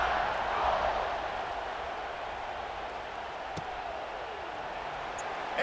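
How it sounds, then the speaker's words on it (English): A stadium crowd buzzes during an Alabama vs Ohio State game in College Football 26, a steady, even roar of many voices with a brief thump partway through. "this crowd is buzzing after that last score"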